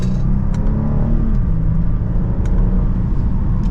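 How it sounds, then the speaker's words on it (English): A 2024 Genesis GV80 AWD in sport mode, second gear, accelerating gently from inside the cabin, a steady low engine rumble with a rising tone, smooth and fairly muted throughout. "Plenty of power for that minor acceleration in this GV80."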